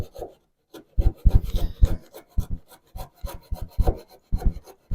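A sash pocket chisel cuts into wood in a run of short, uneven rasping strokes, close and fairly loud, with brief pauses between bursts.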